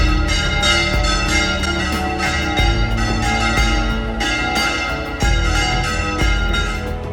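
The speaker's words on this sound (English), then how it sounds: "you can relax, except for when you hear these incredibly loud bells from the church across the street" Loud church bells from a church across the street in Torrent ring in a dense, overlapping peal, with repeated clanging strikes and long ringing overtones, close by and continuous.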